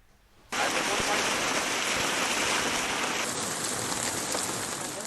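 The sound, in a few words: unseasonal rain falling in Gujarat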